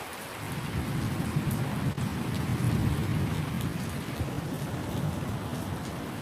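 Steady, dense rain pours down outside near a pondok (Islamic boarding school) on a road being repaired, a continuous close wash of drops hitting surfaces with no voices.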